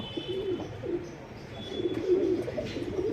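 A Kasni female and white Tamral male pigeon pair coo in low, throaty rolls, several repeated calls close by with a faint background hum.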